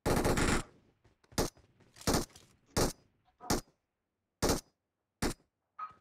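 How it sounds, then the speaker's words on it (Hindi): Machine gun fire in a video game, with short loud bursts of rapid shots separated by pauses, eight bursts in close succession. "मशीन गन मेरे को नहीं चलाने आता भाई, ये वाला मशीन गन।"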